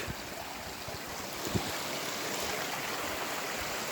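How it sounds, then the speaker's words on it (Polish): A small stream flows into an underground cave, making a steady, broadband rushing wash that stays even throughout, with a single brief knock partway through and no speech. "Płynie sobie taki strumyk"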